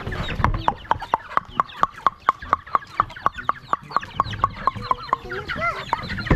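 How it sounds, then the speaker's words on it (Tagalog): Backyard chickens cluck in a fast, even series of short, sharp calls, close by, with softer clucks and rustling between them and a faint voice in the background. "Ayun, ang mga manok natin"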